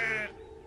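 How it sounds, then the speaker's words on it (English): A sheep in a cartoon countryside setting gives a single short, nasal bleat lasting a fraction of a second, which quickly fades into quiet background. "The noisy sheep were spoiling his peace and quiet."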